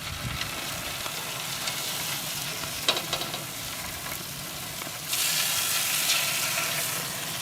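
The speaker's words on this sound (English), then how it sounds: "Now you can hear that sizzle away" Bacon sizzles directly over the fire on a smoker grill, a steady crackling hiss with scattered pops that swells louder for the last couple of seconds, with no talking.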